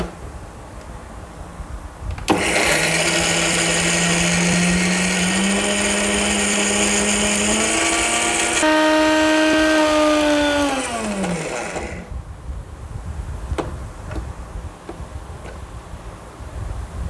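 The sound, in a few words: mixer grinding coconut, cumin and green chili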